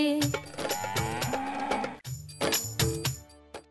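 A cow on a dairy cattle farm moos loudly and close by, two long, drawn-out lows with a brief break between them.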